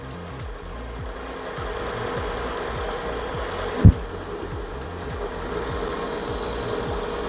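A 2004 Kia Amanti engine idles steadily with its alternator running, a low, even hum with a rhythmic pulse and one brief sharp knock midway.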